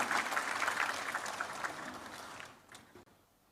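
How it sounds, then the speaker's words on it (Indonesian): An audience at an Indonesian book launch applauds the invited speakers. The applause is moderate and sustained, then fades over the last second. "Khususnya tepuk tangan untuk para narasumber yang hebat-hebat sudah datang di tengah kita semua."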